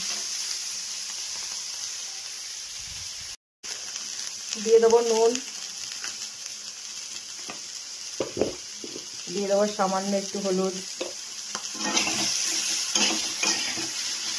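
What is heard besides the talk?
vegetables and shrimp frying in oil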